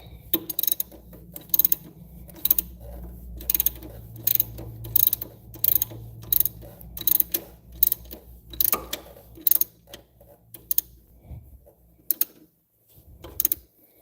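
A ratchet wrench tightens the front strut bolts on a 2012 Chevy Malibu LT, giving a long run of sharp, evenly spaced metallic clicks up close that grow sparse and stop near the end.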